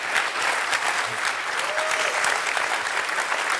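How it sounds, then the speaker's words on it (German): An audience at the Goldene Henne award show breaks into steady applause, a dense, even wash of many hands clapping that continues without a break. "Applaus"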